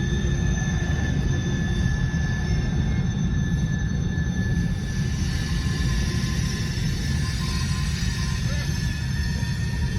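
A CN SD70M-2 locomotive leads a slow mixed freight train on the Beaumont Subdivision, a steady rumbling roll of passing cars with faint wheel squeal, close and continuous throughout.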